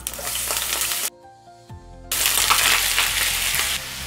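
Green chillies and black cumin seeds spit and crackle loudly in hot mustard oil, a dense close sizzle that briefly drops to quiet clatter before surging back just as strong.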